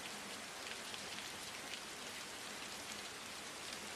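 Steady rain pours down in a dense, even hiss with no pauses, a soft wash of countless drops heard at a distance and at low volume, with no voices.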